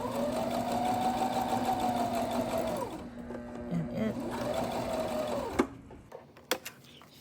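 A sewing machine stitches through unlined mink fur, its steady whirring run lasting a few seconds, pausing, then resuming briefly before a few faint clicks and knocks; a voice talks softly underneath.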